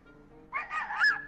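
A person's voice imitates a turkey's gobble in a short, honking, warbling burst during a playful talent-show chat among Fortnite players. The call is fairly loud, rises and wavers for under a second, then trails off.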